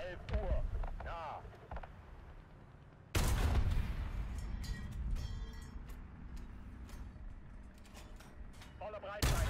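Tank cannons fire a broadside in the War Thunder video game: two loud, sudden blasts with rumbling tails that ring out between stretches of voice and battle noise.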